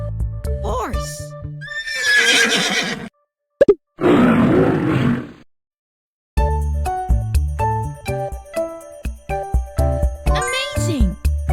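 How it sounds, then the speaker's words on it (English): A horse whinnies in a bright descending call, followed by snorting, hoof clops and jingling effects, with a voice and cheerful game sounds around it in a kids' animal-picking game. "Horse!"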